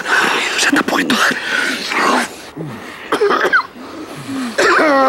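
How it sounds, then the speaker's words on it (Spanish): A man coughs repeatedly in short bursts on a phone line, with the harsh coughs broken up by voices talking in Spanish close by. "Ay, no puedo con este hombre tosiendo en el hilo."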